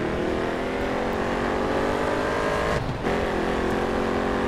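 A race car in the Grid Autosport game drives with its engine holding a steady loud harmonic drone, and a short dip in the sound comes near the three-second mark.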